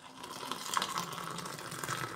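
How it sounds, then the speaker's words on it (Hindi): Water pours into a cup for instant cappuccino, a soft, continuous trickling stream with slight gurgling, quiet and close, with no talking over it. "अब इसमें मैं डालूँगी पानी।"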